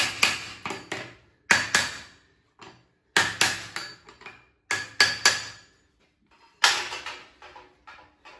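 A hammer drives nails at the toe and heel to rivet a pad onto a horseshoe. The blows are sharp and close and come in bursts of three or four, with short silences between the groups.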